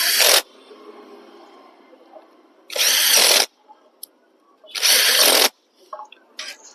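A power tool tightens screws while fitting a pump onto a Honda Livo or Twister motorcycle engine, three loud, separate bursts of whirring with quiet clinks and handling noises in between.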